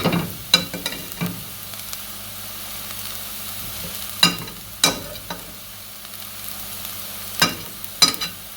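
Ginger added to a hot pan while cooking Jamaican-style curry mangoes, a steady low sizzle of frying punctuated by sharp scraping knocks from stirring at irregular intervals, with no talking.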